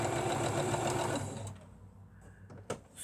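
A freshly cleaned sewing machine runs close up with a rapid mechanical whir and chatter for about a second and a half, then winds down. A brief clunk follows, and no one speaks.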